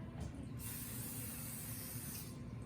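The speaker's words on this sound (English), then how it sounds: "now what we're going to do is we're going to spray our pan." Cooking spray hisses onto a baking pan for peanut butter cookies, a steady close aerosol spray running almost unbroken for a few seconds after a brief click.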